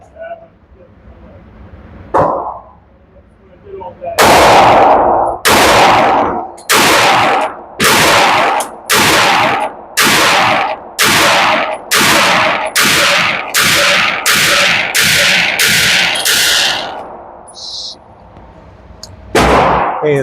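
Sig Sauer P320 XFive pistol fitted with a DH3 ported compensator firing at an outdoor target, about a dozen loud, sharp shots in a steady, fairly quick cadence, with one isolated shot before and another after.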